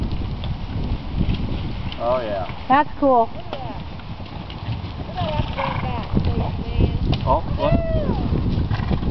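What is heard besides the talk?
herd of horses running and neighing at a ranch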